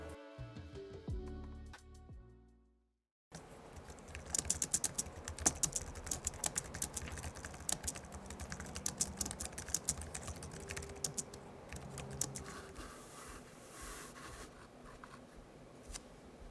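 Rapid, continuous key clicks from typing on a compact Logitech MK470 wireless keyboard, steady and close, following a brief stretch of music that cuts to silence.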